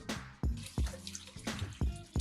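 Rice is rinsed by hand in water in a home kitchen, with sloshing pours, drips and soft splashes coming in irregular bursts, close and fairly quiet.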